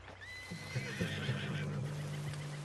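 A spooked horse in the Red Dead Redemption 2 game whinnies loudly and shrilly over a steady low ambient hum, with a few soft hoof clops mixed in.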